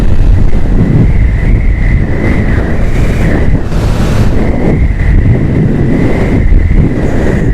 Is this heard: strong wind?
yes